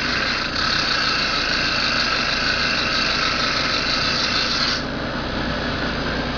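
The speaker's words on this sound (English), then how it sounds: "I use a diamond saw, I just use a paintbrush with WD-40 it's a lubricant." A diamond saw lubricated with WD-40 cuts through glass with a steady, loud, high whine that holds for about five seconds and then drops to a lower running hum.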